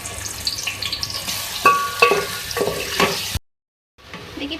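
Medium onions fry in ghee for beef korma, a bright close sizzle with several stirring scrapes, then a brief total silence before the frying resumes.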